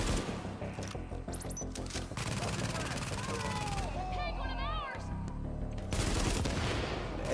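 Rapid gunfire and bursts of shots in The Division video game, dense and loud over game music and effects, with someone talking throughout.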